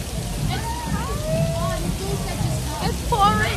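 Heavy rain pours at a Bali beach club, a dense, close hiss of water with sloshing underneath, while voices carry over it throughout.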